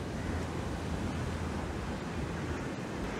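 Strong wind and surf at Bekal beach in Kasaragod form a constant, rushing broadband roar, with wind buffeting the microphone and no voices heard.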